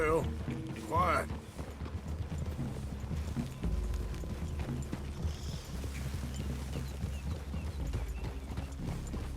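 Horses walk through a wooded clearing in the Red Dead Redemption 2 video game, hooves clip-clopping steadily under a low musical score, with a short neigh near the start.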